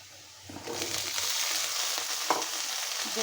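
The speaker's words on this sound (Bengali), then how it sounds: "আমি এখন লাউ ডুগাগুলো দিয়ে দিব" Bottle gourd stems and greens dropped into a pan with onion and garlic, a soft thud followed by a rising sizzle that settles into steady frying, with a faint clink of stirring.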